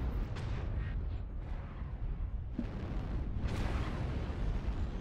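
Airstrike in a shooter video game, a series of deep rumbling booms and blasts rolling over several seconds, with a heavier explosion partway through, loud and continuous with no talk.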